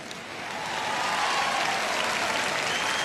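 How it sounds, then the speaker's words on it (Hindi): Studio audience applauding on the KBC quiz show, a dense, steady wave of clapping that swells up within the first second and holds at full strength, with no talk over it. "एक बार अभिषेक जी के लिए तालियां बज जाए।"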